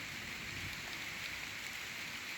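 Steady rain falls during a thunderstorm, a dense, even hiss with no other clear sounds.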